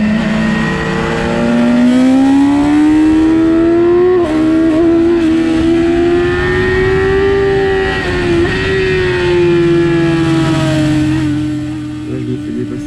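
A race car at full throttle on the Alès circuit, its engine droning loud and close with a rising and falling pitch through the banked curve as another car closes in and passes.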